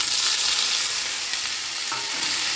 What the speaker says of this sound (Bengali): এখন ঝিঙ্গেটা ছেড়ে দিচ্ছি।